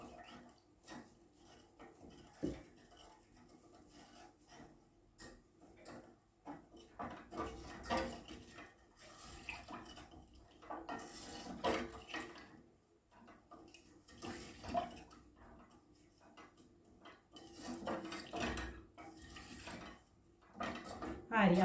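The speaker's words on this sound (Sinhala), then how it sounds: "කිරි ටික එකතු කරගෙන හොඳින් මේක කලවම් කරගමු." Milk being stirred into a cooled butter and sugar mixture: soft, uneven swishing and scraping strokes repeat at a slow rhythm, close but faint, with a voice quietly present.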